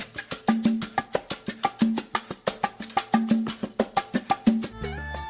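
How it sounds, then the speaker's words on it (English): Conga drums play a salsa tumbao rhythm, a steady, repeating pattern of crisp slaps and ringing open tones, close and clear, ending with a brief sustained tone. "Listen for the conga tumbao rhythm."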